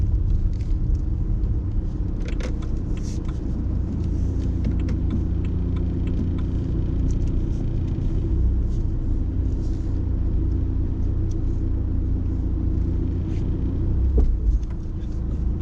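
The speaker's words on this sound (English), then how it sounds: "Let's pull over on the left in this gap here." A car's engine and road noise rumble steadily from inside the cabin for the whole stretch as it pulls over to the left during a driving mock test, with faint clicks and no clear speech.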